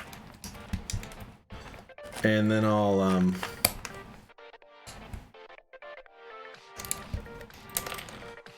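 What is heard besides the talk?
typing on a Drop CTRL mechanical keyboard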